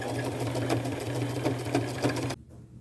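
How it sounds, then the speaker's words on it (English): A sewing machine stitches a lace tablecloth insert onto the back of a plain white shirt, running in one steady, close, continuous burst before stopping abruptly just before the end. "I'm just pinning it to the back and I'm going to sew it on"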